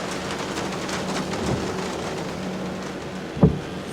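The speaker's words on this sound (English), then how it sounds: "loves the sound of the rain on the car" Rain patters steadily on a car in foggy weather, a dense even hiss of drops with a low rumble and a brief louder thump near the end.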